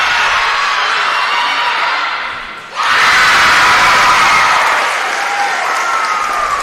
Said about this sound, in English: gets a roar from the crowd lighting up the Waco Center